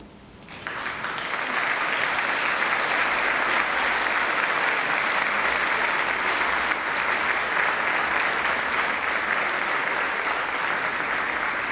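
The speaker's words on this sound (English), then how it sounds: "Please could you turn to the people who have accompanied you today and give them a round of applause." Sustained applause from a graduation audience honoring those who accompanied the graduates, a dense, steady wash of many hands clapping after a brief quiet start, loud and continuous throughout.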